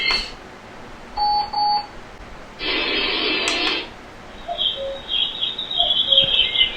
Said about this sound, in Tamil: இது அலாம் ரிங்டோன்.